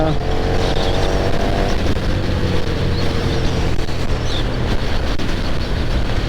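A KTM 1290 Super Duke R twin-cylinder motorcycle engine runs close and loud with a steady, bubbly rumble that holds throughout without pause.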